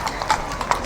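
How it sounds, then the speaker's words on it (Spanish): Horse hooves clip-clop on pavement during the 2020 Tres Tombs parade in Vilanova i la Geltrú: a short run of several crisp, evenly spaced strikes close by, with faint crowd voices underneath. "Mira qué chulo ese caballito, Eri."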